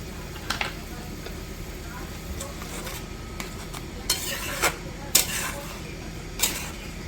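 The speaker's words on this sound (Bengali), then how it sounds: "মশলাগুলো ভালো করে কষিয়ে নিই।" Ground spices (salt, turmeric, chili powder and cumin) are being stirred in a pan while cooking, with a soft sizzle underneath and a few sharp scrapes and clinks of a utensil against the metal.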